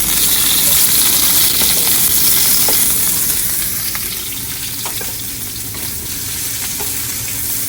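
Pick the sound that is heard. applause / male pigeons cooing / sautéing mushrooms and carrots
sautéing mushrooms and carrots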